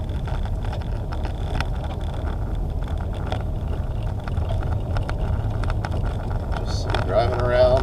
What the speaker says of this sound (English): a very bumpy gravel road, but it'll turn into pavement soon